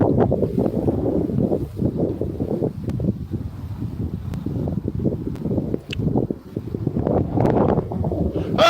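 Strong gusting wind buffets the microphone on a frozen lake while ice fishing, in low, uneven rumbles that rise and fall throughout, with a brief lull midway.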